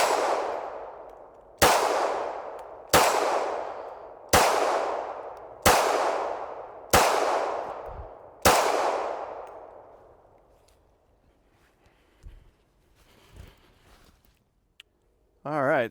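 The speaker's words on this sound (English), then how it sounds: "I've got the last 7 rounds of the day. I'm gonna go for the steel in the back." Seven sharp, evenly spaced shots from a Smith & Wesson Bodyguard 2.0 .380 pistol at an outdoor range, each ringing off a distant steel target, loud and alone, followed by quiet and a few faint clicks.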